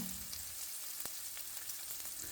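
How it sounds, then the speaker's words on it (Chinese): Pork belly stir-fries in a wok with chilies and garlic, a dense, close sizzle with a few sharp scrapes of a spatula tossing the meat. "用锅铲翻炒出香味"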